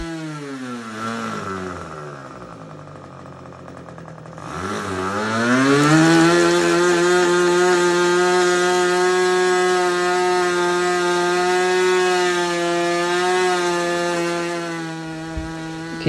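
A ringed model aircraft glow engine starts low and uneven, then rises over about a second into a loud, steady high-pitched whine at high speed. It holds that pitch with no voices and cuts off near the end.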